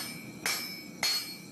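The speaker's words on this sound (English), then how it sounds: "The old-school blacksmith turned to 21st century forging techniques to hammer out a one-piece, all-steel tomahawk." A blacksmith's hammer forging a one-piece, all-steel tomahawk rings out in two sharp, loud metallic strikes about half a second apart, each with a bright ringing tail, close and alone.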